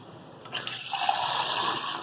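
Water pours steadily into a pot of potato and meat curry being cooked at home, a continuous close splashing fill that starts midway and keeps running to the end.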